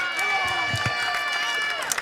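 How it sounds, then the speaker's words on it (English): A wrestling crowd at a live show roars and cheers for Tank Abrams, a steady wash of voices with a few louder shouts, while a commentator talks over it. "Crowd definitely getting behind old Tank Abrams here."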